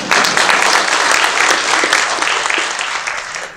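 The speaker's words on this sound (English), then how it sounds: "You can applaud that." Audience applause at a Circle of Hope breakfast speech rises immediately and holds loud and dense throughout, a broad wash of many hands clapping with faint crowd noise beneath.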